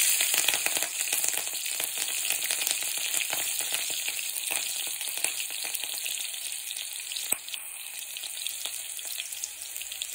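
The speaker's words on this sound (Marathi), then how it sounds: "लसूण टाकायचं चिरलेलं आणि 2-4 मिरच्या असं उभ्या चिरून घ्यायच्या, ते टाकायचं" Chopped garlic and slit green chillies frying in hot oil, a loud steady close sizzle with faint crackles throughout, alone without any talk.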